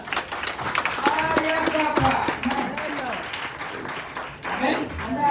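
A church congregation applauds to acclaim Jesus, a burst of clapping mixed with cheering voices and shouts that swells and dips over a few seconds.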